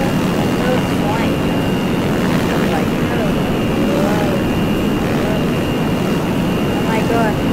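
A plane flies in the Simple Planes video game, its steady engine drone and broad airflow roar running continuously and loud throughout, with no other sounds breaking through.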